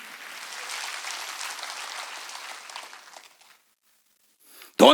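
A church congregation applauds in a sustained round of clapping that fades out after about three seconds, followed by near silence before an abrupt loud sound at the end.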